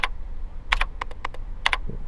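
A computer keyboard is used while playing Daymare 1998. Short, crisp keystrokes come singly and in quick pairs, about nine in all, close and clear over a low background hum.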